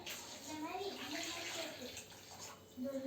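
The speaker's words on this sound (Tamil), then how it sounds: "இப்போது தண்ணி ஆட் பண்ணிக்கிறேன்" Water is poured into a pan of fish curry (meen kuzhambu), a steady splashing rush running throughout, with a voice talking faintly underneath.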